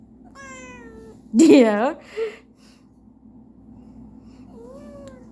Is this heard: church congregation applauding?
no